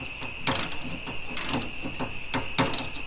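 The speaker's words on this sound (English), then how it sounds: "I'm using a right angle tool like this, that way it's easier to reach" Right-angle ratchet backing out T20 Torx screws on a Mercedes W204 licence plate light, a quick series of close, crisp ratcheting clicks in bursts over a steady high whine.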